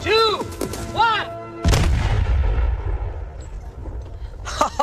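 A cannon fires period-accurate grapeshot in one loud, close boom with a long rumbling decay, preceded by a voice counting down and followed by a brief remark.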